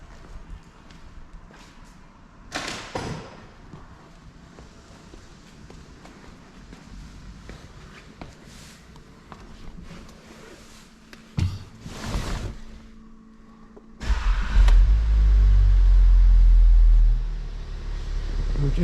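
A car having its DSG gearbox serviced starts up. Some workshop clatter and movement come first, then the engine fires about two-thirds through and settles into a loud, steady, close idle rumble, with no talking.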